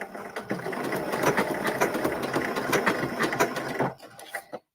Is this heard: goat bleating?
no